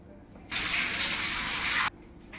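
A wood apple rinsed under a running kitchen tap, water gushing steadily for over a second then cutting off abruptly, close and moderately loud.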